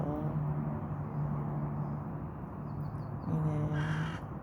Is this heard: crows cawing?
yes